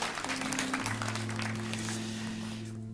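A church congregation at a Sunday worship service breaks into applause, steady clapping with a sustained musical tone beneath it, fading away toward the end.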